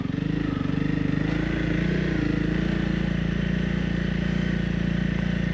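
A Honda CRF 300 Rally motorcycle engine drones steadily and loudly at close range while riding off-road on sand, holding a constant throttle throughout with a rough, pulsing low rumble.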